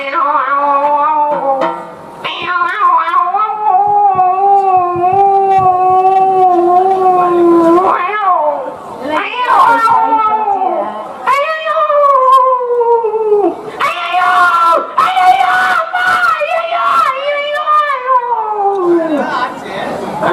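A performer's voice mimics cat calls, drawn-out wavering meows and yowls like a tomcat calling to a female, sung loudly and continuously in several rising and falling phrases during a folk drum show.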